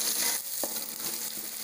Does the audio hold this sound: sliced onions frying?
yes